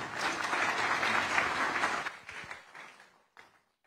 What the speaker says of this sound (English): Let us give the chair a round of big applause.